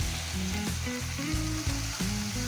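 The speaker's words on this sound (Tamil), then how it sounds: "சொரக்காய் போடுறேன்," Bottle gourd hisses as it hits hot oil with mustard seeds, onion and turmeric, making a dense, continuous sizzle with a few stirring knocks, close and loud without talk.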